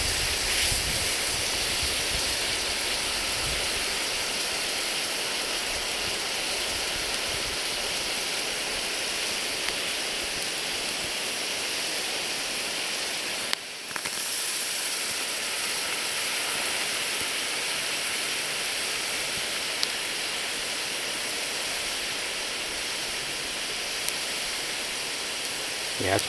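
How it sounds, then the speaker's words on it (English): Water boils vigorously in a rawhide container, a steady dense hiss and bubbling wash that stays constant throughout, with a faint voice and a brief knock midway. "Yeah, it's boiling really good."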